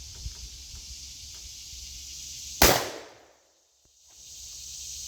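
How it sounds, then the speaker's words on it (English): A single loud 20 gauge shotgun blast fired at a bucket outdoors, a sharp crack with a brief decaying tail, then near silence before faint ambient noise returns. "I'm going to shoot a bucket that's down here"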